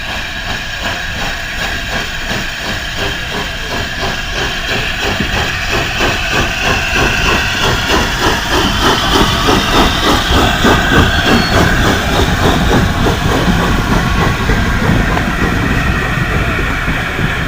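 A4 Pacific steam locomotive 4464 Bittern hisses steam loudly and continuously, with a rhythmic mechanical pulsing growing slightly stronger toward the middle, heard close and without voices.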